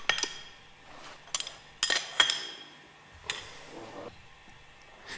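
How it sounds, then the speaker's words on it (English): Metal separator bowl parts of a purifier clink and clank as the disc stack is compressed, several sharp ringing metallic knocks spread over a few seconds against a quiet background, no talking. "Compress the disc stack."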